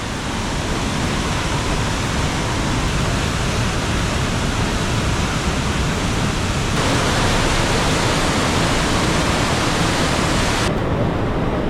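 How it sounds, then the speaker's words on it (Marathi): Water gushes through the opened gates of a dam as a loud, constant roaring rush that stays steady throughout with no voices. "बऱ्यापैकी दरवाजांना ओपन करण्यात आलेला आहे त्याच्यामुळे पाण्याचा लूट बघा केवढा मोठा आहे"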